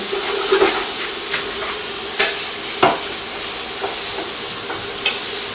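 Vegetables sweating in a pan with salt and black pepper give a steady close sizzle. A few sharp scrapes and clinks from stirring break through it, and nobody speaks.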